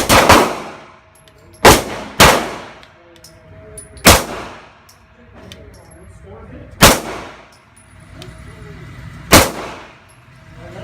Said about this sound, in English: you're going to be shooting one on the left, one on the right, one on the left